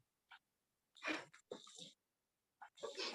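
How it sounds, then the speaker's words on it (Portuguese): A single person sneezes indoors, a short sharp burst with a few quieter breathy sounds and sniffs around it, heard alone. "Espirrei aqui."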